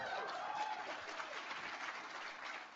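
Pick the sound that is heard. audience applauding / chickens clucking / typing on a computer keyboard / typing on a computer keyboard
audience applauding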